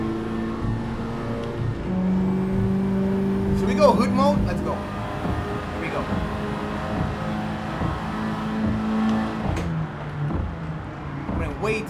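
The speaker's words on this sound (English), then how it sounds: "Wish I could get more sound from the engine in this car." Honda Civic Type R FL5 racing on the Tokyo Expressway in Gran Turismo 7, its engine a steady droning hum with shifting pitch and brief revving flurries, heard faintly beneath a voice talking throughout.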